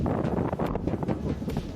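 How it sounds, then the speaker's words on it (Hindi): Strong wind ahead of a storm, under dark rain clouds, buffets the microphone with a continuous low, gusting rumble and brief louder bursts. "बहुत तेजी से हवा चल रही है"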